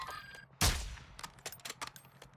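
A sharp, loud gunshot in the Call of Duty Warzone DMZ video game is followed by a scatter of quieter, more distant shots in uneven bursts.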